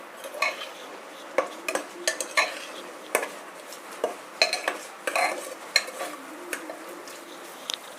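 Biryani masala being stirred in a pot for chicken biryani, with a spoon knocking and scraping against the metal in irregular bursts and faint sizzling between strokes, close and clear with no talking.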